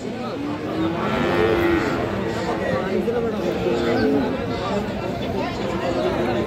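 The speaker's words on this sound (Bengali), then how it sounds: "রানীগঞ্জ হাট থেকে দেখতেছেন আপনারা একটা সার বাছুর ফ্রিজিয়ান জাতের" A Friesian bull calf moos at a busy Raniganj cattle market, long low lowing calls standing out over a dense crowd of chatter and bargaining voices, with other livestock and people talking nearby.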